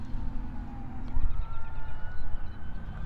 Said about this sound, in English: Except for the sirens going off in the background